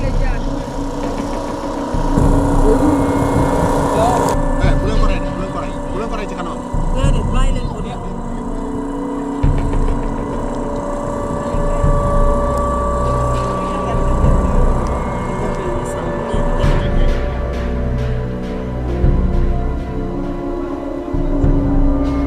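An electricity generator engine hums and drones steadily throughout at moderate distance near homes in Senegal, with a low rumble while a person speaks over it.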